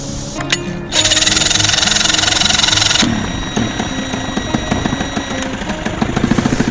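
A small outboard motor that had been submerged sputters to life after a spray of carb cleaner, then runs in a loud, rapid buzzing idle before dropping to a rougher, uneven chugging.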